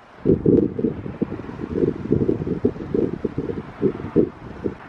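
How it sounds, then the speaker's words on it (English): Wind gusts buffeting a microphone high on top of a giant mill at night, arriving as rough, uneven low rumbling bursts that rise and fall continuously for several seconds, close and fairly loud, with no talking. "just so the wind doesn't hit too hard over here"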